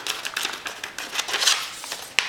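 Scissors snip through a gel transfer sheet in a quick run of short, crisp cuts, close and fairly quiet, with a sharper click near the end.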